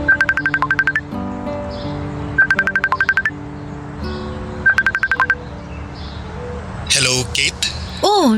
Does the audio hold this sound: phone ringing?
yes